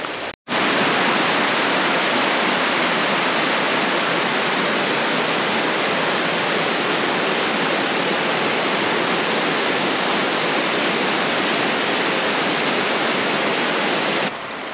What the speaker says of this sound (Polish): Waterfall, so we will visit that